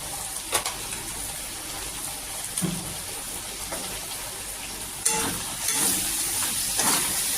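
Spice paste for a Bengali fish curry cooking in oil in a covered pan, a soft continuous sizzle with scattered louder crackles and pops, including a cluster near the end, and no talking.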